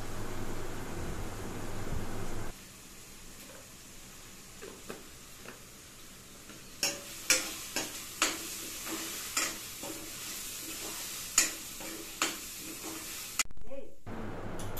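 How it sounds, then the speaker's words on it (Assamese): Onions fry in a pan with turmeric added, making a faint steady sizzle, while a spoon scrapes and stirs in a regular run of short, sharp knocks. "হালধিখিনি দি আকৌ এবাৰ ভাজিম"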